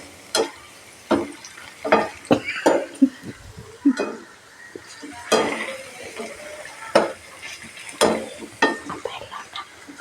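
Chips frying in hot oil while being stirred, with repeated clinks and scrapes of a utensil against the pan over a low sizzle, close and uneven in rhythm.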